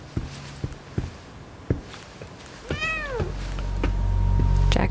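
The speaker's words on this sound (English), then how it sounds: "Stepped on the kitty cat." A cat in the video game The Medium gives one clear, drawn-out meow after being stepped on. Soft footsteps tap before it, and a low rumble builds up underneath.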